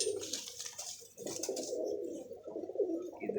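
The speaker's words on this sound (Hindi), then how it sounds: "इधर गया ये कबूतर।" Soft, low pigeon cooing repeats in a steady murmur, close by, with faint rustling and no talking.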